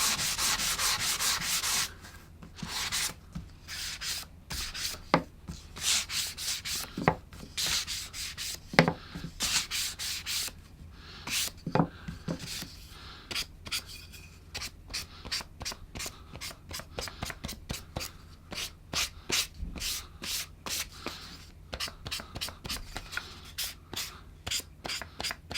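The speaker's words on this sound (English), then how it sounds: "you can take a 320 grit sandpaper and sand the edges" Wood edges of a clamping caul being hand-sanded with 320 grit sandpaper, close rhythmic rasping strokes that start with a long steady rub and then repeat quickly and evenly, no talking.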